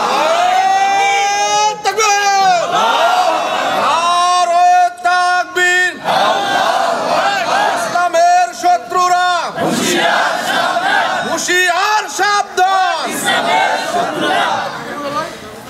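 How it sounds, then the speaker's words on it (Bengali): Large crowd at a political rally in Naogaon chanting a slogan in loud, rhythmic unison bursts, voices rising and falling in repeated waves with brief gaps, close and forceful. "কারা কারা রাজি আছেন দুহাত উঁচু করে একটা স্লোগান দিয়ে আল্লাহকে দেখান"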